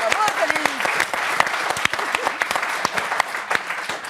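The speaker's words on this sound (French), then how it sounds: "Félix Roy, que je vous demande d'applaudir pour sa première chronique." An audience applauds steadily, with dense clapping filling the whole stretch and a few sharper claps standing out near the front.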